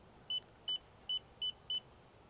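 ThorBolt X1 smart lock with Apple Home Key gives five short, evenly spaced electronic beeps after a passcode is entered, close and clear over a quiet background.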